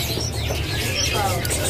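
Caged songbirds at an Indonesian bird market chirp and tweet in quick overlapping calls above a low murmur of background market noise.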